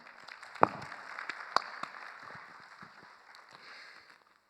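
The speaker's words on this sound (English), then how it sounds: "Applause again, thank you so much." Scattered applause from a seminar audience at a technical session on cement chemistry, sparse and soft, with a few sharper claps standing out near the start before it thins away.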